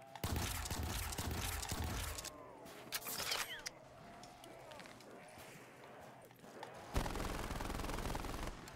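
Gunfire in Call of Duty Black Ops 3 zombies: rapid bursts of shots in dense, rattling clusters at the start and end, with scattered clanks and game effects between, loud and close.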